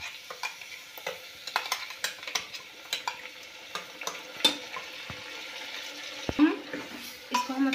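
Ground onion-garlic masala for chana masala sizzles in hot oil while a spoon stirs and scrapes it around the pan, a steady crackling fry broken by irregular scraping clatters, close by with no speech.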